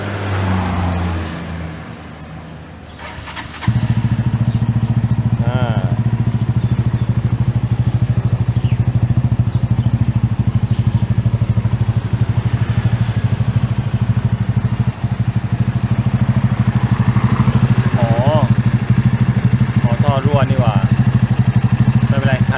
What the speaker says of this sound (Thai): โอเคลองฟังเสียงเครื่องยนต์ดูนะครับ